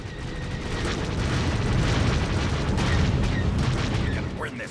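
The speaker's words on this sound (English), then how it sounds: "Direct hit. Target destroyed." An exploding starship target in SWTOR space combat, a sustained rumbling boom with crackling bursts that swells and fades over several seconds amid game noise.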